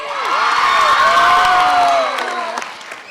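A crowd cheers and screams loudly, with high voices shrieking and whooping together, fading toward the end.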